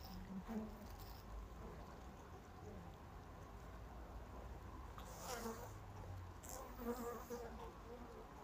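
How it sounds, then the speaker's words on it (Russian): Honey bees hum in a wintering hive at a Rome apiary in December, a faint, steady, close buzz with slight swells and a few soft rustles, heard alone. "Пчелки очень спокойные."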